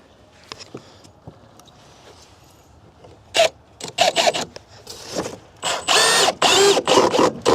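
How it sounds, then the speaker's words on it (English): A screw is power-driven into 2x lumber set against a Nudura ICF foundation block. After quiet handling clicks, a drill whirs in several short close bursts, then in longer, louder runs. "Screw it down into my 2x."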